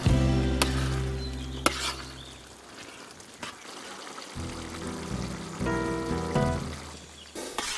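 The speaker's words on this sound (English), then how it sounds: "I add another 30 centiliters of water and I mix" Water poured into paella rice cooking with seafood in a pan, with soft trickling and stirring over a steady low sizzle, a few sharp clinks of a utensil against the pan.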